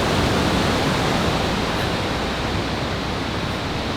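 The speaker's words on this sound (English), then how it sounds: "This river here, I don't know if you can hear it beside us. It's raging. It's loud." A raging mountain river swollen with snow melt in a canyon, heard as a loud, dense, continuous rushing roar close by, with no break or change.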